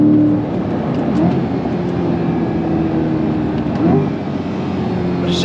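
A 2026 Chevrolet C8 Corvette Z51 mid-engine sports car revs hard on throttle in second gear, a steady loud engine drone that rises in pitch, heard from inside the cabin.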